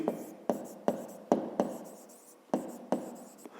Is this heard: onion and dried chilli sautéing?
no